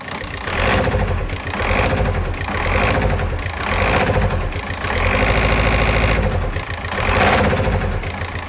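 A VW Golf engine with a worn-through camshaft lifter bucket idles close and loud, a steady rapid ticking over a throbbing hum that swells and fades in slow waves.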